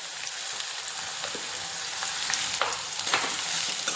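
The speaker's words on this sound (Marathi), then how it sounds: "आणि कांदा पूर्णपणे लाल होईपर्यंत परतवत राहायचा" Chopped onion with ajwain fries in a pan, a soft, even sizzle with occasional light clicks and scrapes of stirring throughout.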